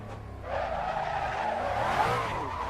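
Maserati Alfieri tires squealing and skidding as the car power-slides through a yard, a loud, close, sustained squeal that rises and wavers for a couple of seconds over the engine's low hum.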